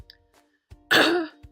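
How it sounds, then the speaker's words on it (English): A person clears their throat once, sharply and close, with a couple of small breathy sounds before and after in an otherwise quiet room. "clear my throat before I get started."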